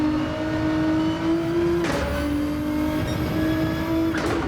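Race car in Gran Turismo 7 accelerating in second gear, its engine note climbing loud and close, with two quick gear-change dips breaking the rising whine.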